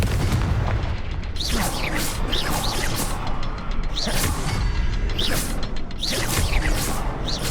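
Confringo blasting spell fired repeatedly in the video game Hogwarts Legacy, a series of loud booming explosions with crackling debris, recurring roughly every second or two over a constant dense rumble.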